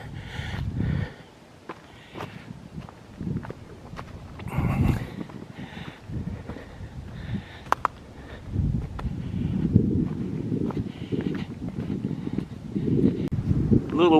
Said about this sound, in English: A little windier up here.